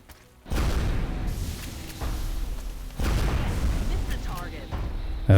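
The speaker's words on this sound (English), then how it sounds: "she can go for 2 rapid-fire shots from full cover" Rapid-fire rifle shots in XCOM Enemy Within, a turn-based combat video game: a few heavy, booming gunshot blasts land in separate bursts, loud and close, with game effects filling the gaps between them.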